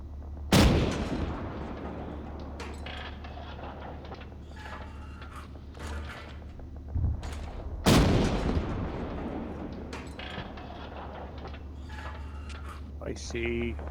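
Gunfire in the military shooter Arma 3 during a Desert Storm mission: two loud, sharp gunshot blasts several seconds apart, with scattered smaller distant cracks and mechanical clatter between them.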